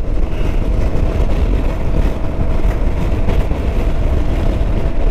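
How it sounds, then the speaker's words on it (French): A Yamaha XMAX scooter accelerates at full throttle onto a highway, a steady, loud engine drone blended with heavy wind and road rumble that holds constant throughout. "Là, on rentre sur l'autoroute, donc accélération à fond."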